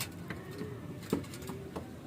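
Racing pigeons arriving home from a training flight coo softly, low and murmuring, with a few brief higher chirps from small birds nearby; no talking.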